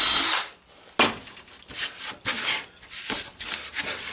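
Close bursts of a drill press boring into wood to make a template, a grinding, rasping bit cutting in several short passes with brief pauses between.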